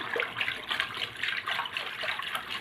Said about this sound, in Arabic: هحط بقى الميه بتاع سليق المكرونه